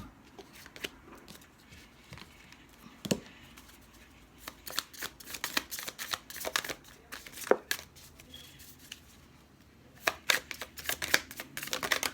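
Oracle cards are shuffled unevenly up close, with quick flicking riffles and irregular slaps of card against card.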